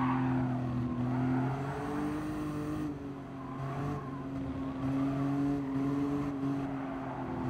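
A race car in Gran Turismo Sport on fresh tires drives fast, its engine droning loud and continuous with rising and falling revs and shifts, with light tire noise underneath.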